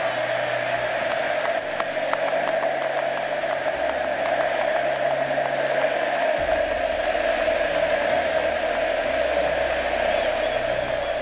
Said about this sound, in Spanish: además se llevó tremenda ovación del estadio